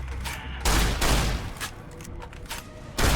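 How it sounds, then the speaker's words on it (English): Shotgun blasts in Fallout: New Vegas Dead Money, several loud booming shots with heavy low rumble, the strongest near the start and end, amid continuous game noise. "Shotgun in the face"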